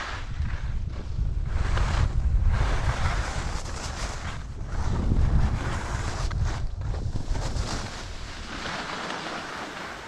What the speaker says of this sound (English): I will just ride down there with the ski to have a closer look at the situation